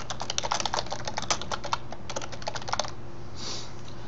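Close, rapid typing on a computer keyboard as an article title is entered, with irregular clustered key clicks for about three seconds, then stopping.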